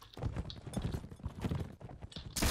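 Horse hooves clip-clop in a Mount & Blade: With Fire and Sword multiplayer battle, with quick, rhythmic galloping beats that rise and fall at moderate loudness and end in a sharp burst of noise.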